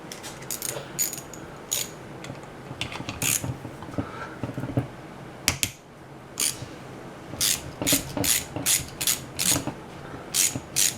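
A starter being worked loose and unscrewed from its housing on a 1994 Saab 9000, heard as close, repeated bursts of mechanical ratcheting clicks with short pauses between them and no talking.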